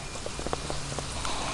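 Rain falls on puddles as a steady hiss while a dog is walked outdoors, with faint drips and footstep-like taps scattered through the wash.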